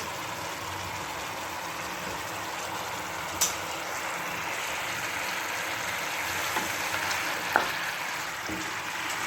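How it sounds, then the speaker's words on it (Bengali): Marinated curry simmering in a covered pan with no added water, a steady soft bubbling hiss throughout with a couple of faint clicks. "তো এখন তো ফুটছে"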